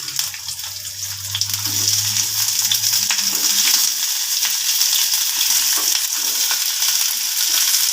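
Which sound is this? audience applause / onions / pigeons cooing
onions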